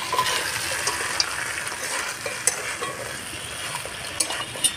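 Vegetables for shukto, a Bengali mixed vegetable dish, are stir-fried in a pan with a constant close hiss of sizzling oil and occasional light scrapes and ticks of a stirring spoon, no voices.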